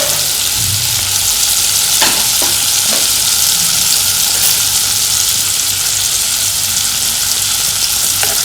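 Paneer pieces fry in hot oil in a pan until browned on both sides, a strong continuous sizzle with occasional soft clicks of stirring, close and alone without voices.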